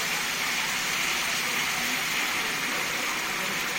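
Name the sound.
hot water being poured into the cooking vegetable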